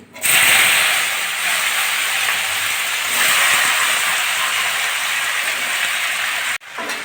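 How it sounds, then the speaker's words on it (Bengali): Yardlong beans hitting hot oil with five-spice, bursting into a loud, broad hiss that starts abruptly and holds steady for several seconds before a brief cutoff near the end. "ফোড়ন দিয়ে দিচ্ছি তেলের ভিতরে কালো আর বরবটিগুলো আমি তেলের ভিতর দিয়ে দিচ্ছি"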